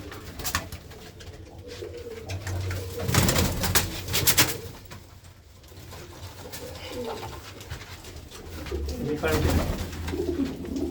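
Pigeons cooing in a home loft, soft repeated coos near and far while people talk over them.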